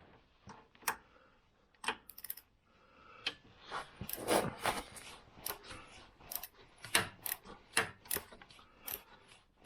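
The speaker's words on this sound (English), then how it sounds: "I'm going to loosen the top bolts." Wrench work on the bolts of a Jeep rear differential: a run of sharp metallic ratcheting clicks and taps, irregular and close, with busier clatter in the middle and no talking.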